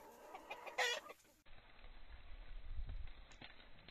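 Chickens clucking on a farm, several short rhythmic clucks near the start, with a rooster among the fowl, followed by quieter rustling farmyard ambience.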